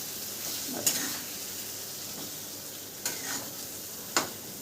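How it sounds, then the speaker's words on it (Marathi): Masala paste sautés in a pan for a brinjal curry, a faint steady sizzle with three or four soft scraping clicks from a stirring spoon. "मसाला छान असा परतून घेऊ आपण आता."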